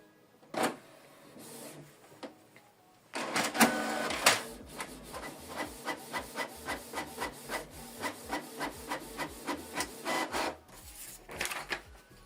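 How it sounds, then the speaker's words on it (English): Canon TS3355 inkjet printer printing a test page: a few separate mechanical whirs, then a steady run of rhythmic clicking and shuttling pulses as the paper feeds and the print head moves, fairly quiet and close. "Print test page."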